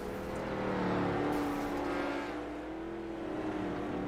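Race cars racing on the Eldora dirt track, engines roaring and revving loudly as they sweep past, with pitch rising and falling and a continuous wall of motor noise, no voices.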